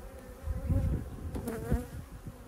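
Honeybees hum and buzz steadily at an opened beehive in spring, a dense close swarm drone with no talking.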